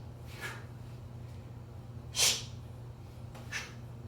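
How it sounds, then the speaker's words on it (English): Sharp nasal sniffing inhales taken between continuous two-hand kettlebell swings, three brief breaths with the middle one loudest, over a low steady background hum. "So I sniff through my nose."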